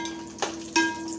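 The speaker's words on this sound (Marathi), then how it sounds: "खोबरं पण चांगलं तळून घ्यायचं." Coconut frying in oil for a Nagpur-style thin poha chivda: a brief low sizzle broken by two quick stirring scrapes, close and moderately loud, with no talking.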